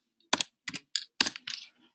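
A cell reference is typed on a computer keyboard in a quiet room: five or six distinct, close clicks and short bursts of keystrokes, with no one talking.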